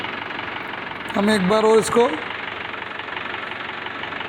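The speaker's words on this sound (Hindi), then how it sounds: "और अभी ट्रैक्टर स्टार्ट है, आप इसकी आवाज़ सुन सकते हैं।" A diesel tractor engine idles with a steady low rumble throughout, while someone talks briefly over it partway through.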